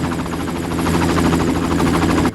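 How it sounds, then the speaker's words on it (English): A helicopter approaches in the video game Far Cry, its rotor a loud, steady throbbing beat over a low engine drone that swells slightly before cutting off abruptly. "there's going to be a helicopter that's going to come for us"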